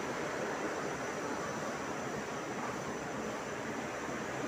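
Steady, dense rushing of a waterfall beside a church, heard from inside the building as a constant broadband roar with no pauses or other sounds.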